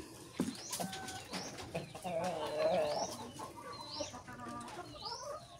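Thirsty chickens at their waterer cluck and chirp in short repeated calls, with some wing flapping and soft voices in the background.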